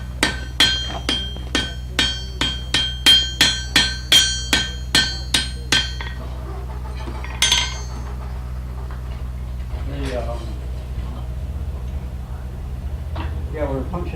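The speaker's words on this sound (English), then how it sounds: "we were punching a hole, and Frank drilled it first" A blacksmith hammers to punch a hole in iron at a harvest day museum demonstration, about a dozen sharp ringing strikes in a steady rhythm, then a final blow, with people talking afterward.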